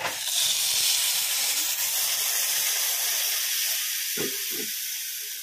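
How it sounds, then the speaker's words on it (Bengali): Water poured into a hot pan of peas and potatoes, a loud steady sizzling hiss that holds for several seconds and slowly fades, with faint stirring knocks near the end. "এবার আমরা জল দিয়ে দেবো"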